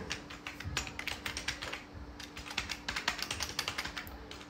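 Someone types a message on a keyboard into a WhatsApp group, producing a quick, even patter of close key clicks that runs throughout over a faint steady hum.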